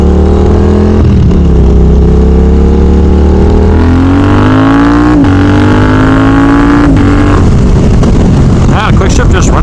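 A vehicle with a new aftermarket exhaust and a quick shifter revs hard and close, its pitch climbing through several gears with quick breaks at each shift before a rougher, crackling burst near the end.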